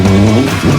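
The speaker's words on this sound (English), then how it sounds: "first engines of the morning have started" At a morning car show, a car engine turns over and revs, a loud, close, rising growl that dips briefly before surging again, heard alone.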